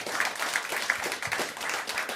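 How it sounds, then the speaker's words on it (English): Sparse hand claps, a few quick separate claps at moderate distance, faint against a quiet room. "And I clap for you"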